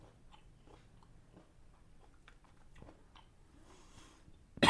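Soft biting and chewing of salad, with faint, irregular crunches spread across a quiet background and a sharp louder knock at the very end.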